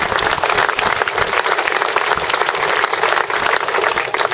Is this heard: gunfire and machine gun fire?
no